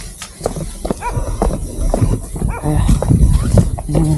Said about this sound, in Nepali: कुकुर चाहिँ यहाँ त अति नै धेरै रहेछ